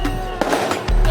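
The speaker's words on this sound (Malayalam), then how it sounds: "അവിടെ പടക്കം പൊട്ടിക്കൽ തുടങ്ങി കേട്ടോ" Firecrackers burst at an outdoor night market in Indonesia, with a couple of sharp pops over a loud, busy background.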